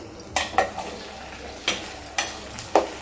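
Chopped vegetable being sautéed in a pan in a home kitchen, heard as a handful of separate clinks and scrapes of a spatula against the pan, spaced irregularly over a low background with no voices.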